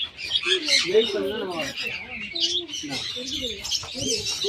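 Birds at a bird park chirp, squawk and tweet in a lively close chorus, with a person talking over them throughout.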